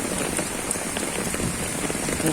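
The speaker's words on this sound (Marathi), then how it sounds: "पाऊस पडतो" Steady rain pours down without pause, a dense hiss of drops hitting a surface close by, with no voices.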